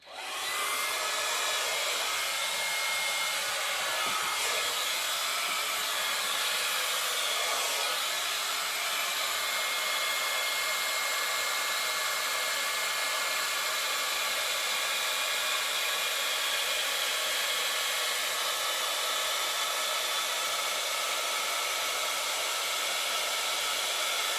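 Babyliss Big Hair rotating hot air brush blowing continuously, a loud steady airy whoosh with a faint motor whine running unchanged for the whole stretch, close by and alone.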